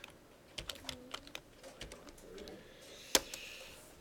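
Computer keyboard typing, a short run of light, close key taps followed by a single sharper key strike, with faint bird cooing in the background and no speech.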